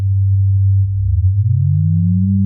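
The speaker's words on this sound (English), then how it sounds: "we can bring in another sine wave" A pure, low sine tone from a Befaco Oneiroi synthesizer hums steadily, then a second tone slides upward beside it, creating a wavering beat.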